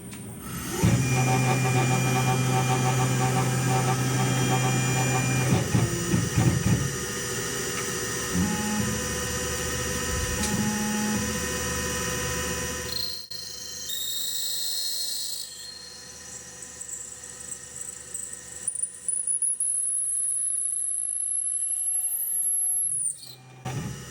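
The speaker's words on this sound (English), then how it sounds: "I don't know what's causing all this squealing." On a Tormach mill, a 1/2 inch end mill cutting metal gives off a loud, steady, high-pitched squeal with shifting tones, easing partway through before a bright whine climbs and cuts off near the end.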